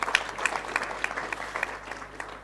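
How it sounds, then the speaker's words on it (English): An audience applauds a government minister at an NHI event, a steady, dense wash of clapping with a few sharper individual claps standing out, moderately distant and without voices. "may we give the Minister a round of applause"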